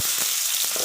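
Onion sautéing in hot oil in a large pan for restaurant-style paneer butter masala, a steady loud hiss and crackle of sizzling with no talk.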